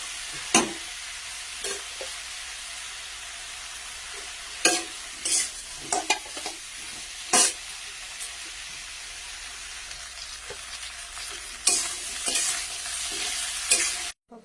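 Potatoes stirred and fried in a home kitchen, with a steady hiss of frying under repeated scraping strokes of a spoon that come in irregular bursts, loud and close, with no talking.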